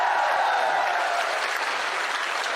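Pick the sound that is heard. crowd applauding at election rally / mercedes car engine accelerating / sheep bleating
crowd applauding at election rally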